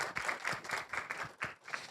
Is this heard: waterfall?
no